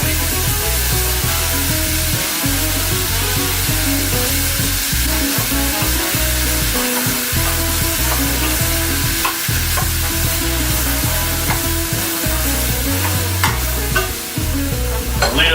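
Mushrooms and broccoli fry in a pan with a steady, close sizzle that runs unbroken throughout, with occasional stirring scrapes and no talking.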